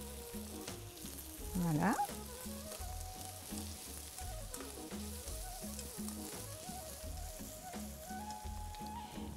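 Red bell pepper fries in a pan with a soft, steady sizzle and occasional stirring, fairly quiet, while a voice briefly speaks over it.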